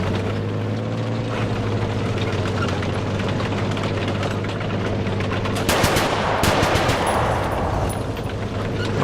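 Rapid automatic gunfire from a vehicle in War Thunder rattles over a steady engine drone, with a louder cluster of sharp bursts partway through.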